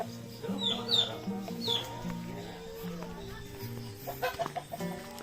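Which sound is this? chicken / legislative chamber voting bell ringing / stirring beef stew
chicken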